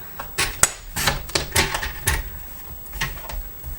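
Paper being trimmed for a foil bag craft: a quick series of close, crisp snips and rustles spaced unevenly over a few seconds, fairly quiet and with no talking.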